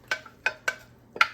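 Chunks of pineapple and peppers dropped into a pot on the stove, four separate soft clattering thumps in quick succession, close and fairly quiet with no talking.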